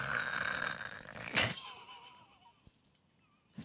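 A man imitates loud snoring with his voice, a rough wheezing, rattling snore with a hoarse breathy burst near the middle, fading into quiet snuffles and a short gap before one last faint snort.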